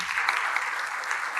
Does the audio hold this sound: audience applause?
yes